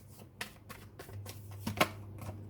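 Tarot cards shuffled and drawn from a deck, a string of quiet papery flicks and snaps spaced irregularly over a low steady hum, with one sharper louder card snap near the end and no talking.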